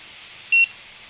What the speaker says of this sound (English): Then I'll start my timer, 7 minutes on both sides.